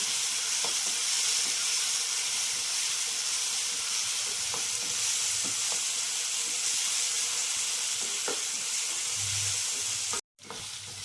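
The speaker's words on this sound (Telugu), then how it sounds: "బాగా అల్లం చిల్లిపాయ పేస్ట్ కూడా వేగేదాకా వేసుకుందాం." Ginger-garlic paste with turmeric and salt frying in a pan, a steady close sizzle with occasional soft stirring clicks and a brief dropout near the end.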